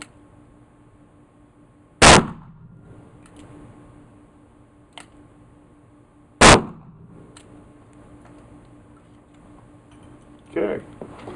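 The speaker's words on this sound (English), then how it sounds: "We're going to shoot the 410 shell first." Taurus Judge revolver firing .410 shells at an outdoor range from about 7 yards: two sharp, loud shots several seconds apart, each with a short ringing decay, followed by a quieter knock.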